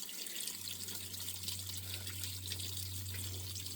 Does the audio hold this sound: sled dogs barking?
no